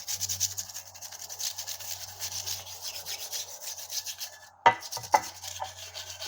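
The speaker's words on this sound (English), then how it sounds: "So I'll use my toothbrush." A toothbrush scrubs a dirty car gearbox valve body, giving a soft, steady rasping rub that continues for several seconds, briefly interrupted by two sharp knocks near the end.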